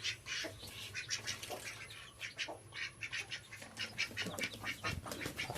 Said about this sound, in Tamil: கின்னி கோழி.